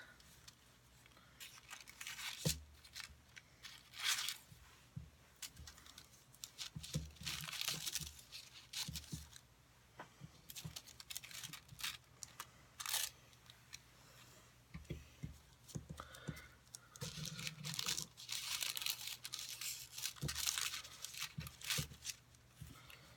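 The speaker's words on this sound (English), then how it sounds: "we're going to cut out our stamped images. I'm going to use my bigger scissors" Quiet, close snipping and crinkling as large scissors cut stamped images from paper in irregular bursts, with short pauses between cuts.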